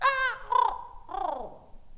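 Three harsh, descending crow caws sound in quick succession during a live chamber-ensemble storytelling performance, each call loud and close with a short gap between them.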